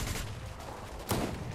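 Gunfire in the video game Fortnite Chapter 5 crackles in quick rapid bursts, loud and close, two sharp volleys within a moment of each other.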